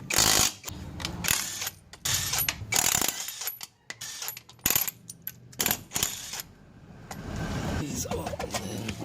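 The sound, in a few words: removing a car wheel from a vehicle on jack stands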